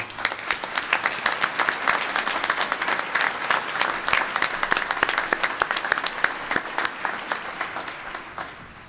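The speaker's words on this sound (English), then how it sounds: "A big round of applause for all of you." A graduation ceremony audience at the Naval Postgraduate School breaks into loud, sustained applause, many hands clapping densely and evenly for the whole stretch.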